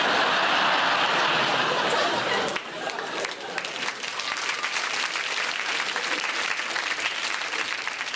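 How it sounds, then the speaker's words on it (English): Audience applause at a televised comedy show, loud and dense at first, then dropping to a steadier clapping with some laughter and chatter mixed in. "Bless you for clapping"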